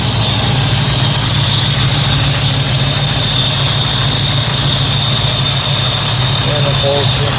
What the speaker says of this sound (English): Motor sounds real good.